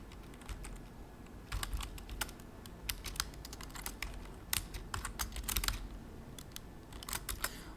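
Someone types code on a computer keyboard in quick irregular bursts of clicky keystrokes, close and fairly quiet, with short pauses between runs and no talking.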